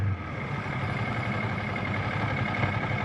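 Moped engine running steadily on a ride through Algeria, a continuous low mechanical drone with road rumble, fairly loud and unbroken, no voices.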